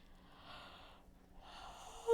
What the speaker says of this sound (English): First yawn of the year.